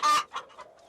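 A chicken clucks close by in a cartoon scene, one loud squawking cluck followed by two or three shorter, softer clucks in quick succession.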